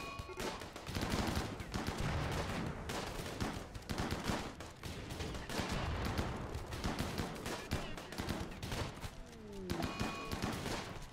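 Rapid bursts of gunfire from enemy raiders during a siege in the colony game Rimworld, many overlapping shots in dense fusillades, sustained and fairly loud, with brief lulls between volleys.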